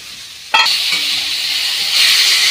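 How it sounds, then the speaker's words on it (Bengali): Ground spice paste hits a hot pan with a sudden sharp sizzle, settling into a steady close hiss of frying that swells louder again near the end. "তো মশলাগুলো ভালো করে ভেজে নেব"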